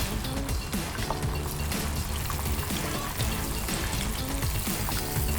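A prawn cutlet deep frying in hot oil gives a steady, dense sizzle and crackle that runs continuously at close range, with no voices present.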